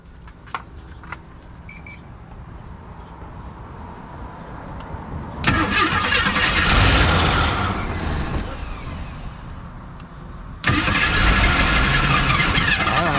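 An AMC Pacer car engine cranks and catches, running in a rough roar, drops back somewhat, then bursts loudly into life again near the end; close and loud with no talk.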